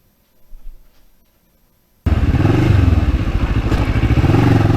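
A Yamaha MT-09 or Kawasaki Ninja 650 motorcycle pulls into a driveway; after a quiet start the engine cuts in abruptly with a loud, close, steady throbbing run and wind buffeting.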